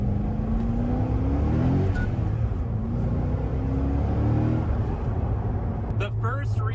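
A 2008 Corvette C6 Z06 drones steadily from inside the cabin while driving, a loud continuous engine hum with gently rising and falling pitch, and a voice breaks in briefly near the end.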